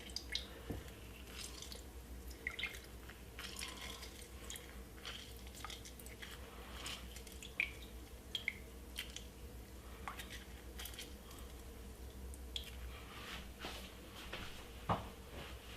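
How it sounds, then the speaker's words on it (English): Someone squeezes half a lemon or lime by hand for fresh ginger tea, giving quiet squelches and scattered drips of juice across a calm, hushed background. "get half of a lemon or lime and squeeze it"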